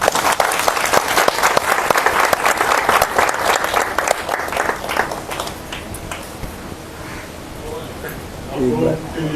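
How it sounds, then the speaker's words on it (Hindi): An audience claps at an Indian Independence Day celebration, loud and dense up close, thinning out toward the end as a voice begins speaking. "ताली बजा दीजिए।"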